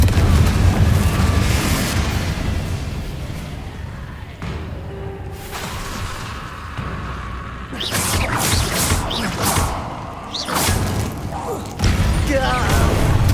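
Fiery Confringo spell explosions in Hogwarts Legacy, loud booming blasts with crackling bursts and rumbling debris over a dense, steady game soundscape, with a voice speaking at times.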